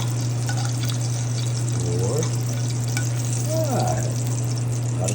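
Egg and bacon frying in a pan give a steady close sizzle under a low hum, with a couple of brief stirring or scraping sounds partway through.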